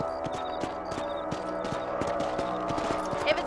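Hooves clip-clop in an even, repeating rhythm as horses travel in Red Dead Redemption, clear and close over a steady musical background.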